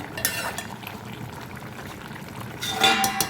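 Vegetable curry of prawns, brinjal and mango simmering in a pan, a soft bubbling and stirring hiss with a few light clinks and a brief louder stir near the end.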